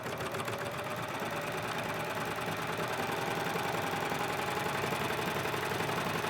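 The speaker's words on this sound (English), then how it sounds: "So we're just going to flip that over and we're going to start to stitch." A serger sewing machine stitches a hem, making a fast, steady, close mechanical whir with a rapid rhythmic patter throughout and no talking.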